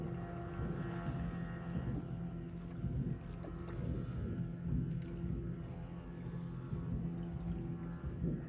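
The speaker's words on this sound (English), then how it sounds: "there's a fizz boat coming through behind us" A motorboat's engine drones steadily at a distance behind a sailboat anchored at sunset, a low continuous hum with faint higher tones above, and no one speaking.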